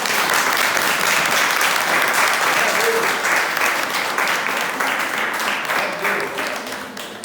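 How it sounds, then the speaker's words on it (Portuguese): A congregation applauds at a Portuguese-language worship and praise service. The clapping is dense and continuous for about seven seconds, easing slightly toward the end. "Pode aplaudir"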